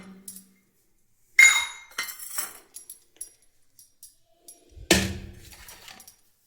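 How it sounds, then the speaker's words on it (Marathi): Kitchen pots, a pressure cooker and a wok are handled in several separate bursts of clinks and metallic clanks, each close and brief, with quiet pauses between them. "भांडी कुकर ते घ्यायचं कढई पण घ्यायची होती"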